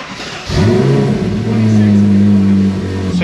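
Ferrari 458 V8 in race mode revving as it pulls out of a garage, a loud, close engine note rising sharply and holding a steady roar, with people talking over it.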